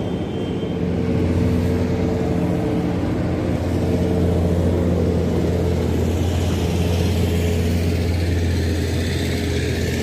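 A motorcycle engine running steadily with a low, even hum and road noise, continuous and close with no clear revs or changes.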